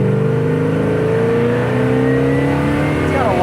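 A 1955 Chevy Bel Air's engine pulls steadily under acceleration, loud and close, its drone climbing slowly in pitch throughout without a break.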